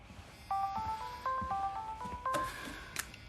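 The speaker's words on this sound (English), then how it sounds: "She's dialing 810 from an 850 area." Telephone keypad dialing tones from a call placed with the wrong area code, a quick run of about eight steady beeps in a row, clear and fairly loud.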